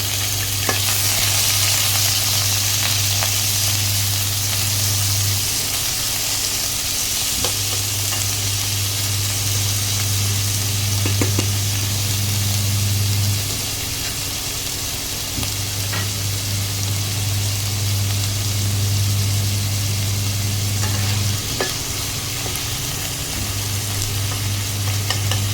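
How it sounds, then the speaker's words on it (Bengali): Chicken fries in about two spoons of oil in a wok on an induction cooktop, giving a loud, continuous sizzle over a low, steady hum, with occasional light stirring clicks. "প্রথমে চিকেনটা ভেজে নিচ্ছি।"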